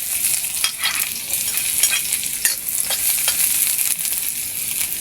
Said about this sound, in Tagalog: naglagay po ako ng mantika, gisa ko ng sibuyas, nalo-halo, at sinunod ko na rin ang bawang